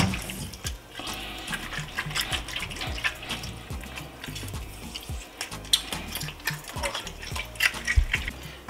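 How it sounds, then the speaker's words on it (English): Cold tap water runs while conch is rinsed in a bowl during cleaning for a Haitian stew, a continuous close splashing and trickling with occasional clinks of the bowl and utensils. "Again, you're gonna wash it with cold water."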